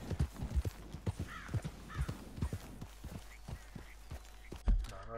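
Horse hooves clip-clopping in the video game Red Dead Redemption 2, a steady walking rhythm of close, distinct thuds over a low background drone.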